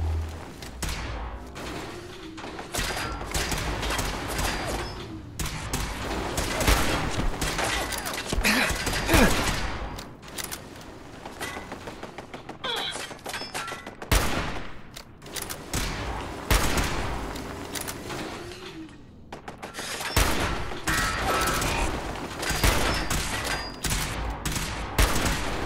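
Rapid bursts of automated turret gunfire in Fallout 4, loud and sustained in clustered volleys across the whole stretch, with brief lulls between them.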